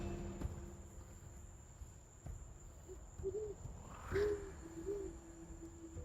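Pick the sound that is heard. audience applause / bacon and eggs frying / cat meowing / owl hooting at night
owl hooting at night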